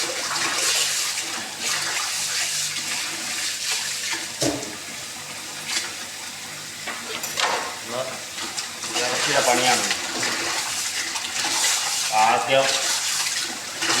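Beef being washed with water in a home kitchen, a continuous close splashing and running-water wash with handling noises and sloshing, under occasional talk.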